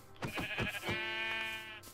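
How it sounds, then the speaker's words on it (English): Sheep bleating in the video game Minecraft, several short wavering bleats in quick succession followed by a longer sustained bleat, fairly close and clear with no talk. "Sorry, Mr. Sheep, I also need your wool."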